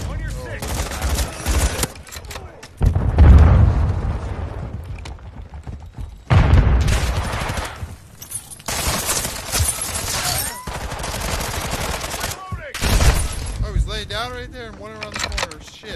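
Rapid gunfire from a shooter video game, loud bursts and volleys repeating across the clip with booming shots, mixed with voices talking over the action.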